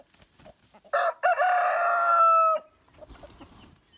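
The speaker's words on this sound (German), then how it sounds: "Die Hühner in den Reben. Da sind sie wieder." A rooster crows loudly and close by among chickens roaming a vineyard, one long drawn-out call, with soft rustling and clucks around it.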